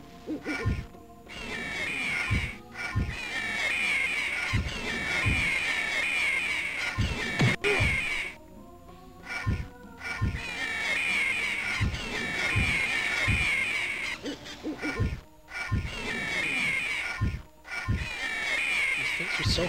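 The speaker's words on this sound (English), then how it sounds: "More owls." Owls hoot in the video game Anvil of Dawn, repeated calls sounding again and again at regular intervals over steady game ambience, with brief sharp hits in between.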